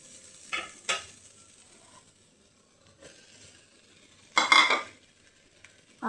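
Soaked, halved soybeans hit a hot pan for a soybean roast, giving a sharp burst of sizzling mixed with a few scraping stirs and light utensil clinks against the pan, with quiet gaps in between.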